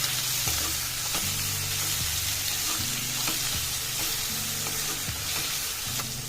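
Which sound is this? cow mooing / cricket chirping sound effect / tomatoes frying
tomatoes frying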